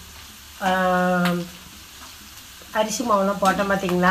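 Tea-shop style onion pakoda, battered with gram flour and rice flour, frying in hot oil. A soft, steady sizzle runs beneath a person speaking in Tamil.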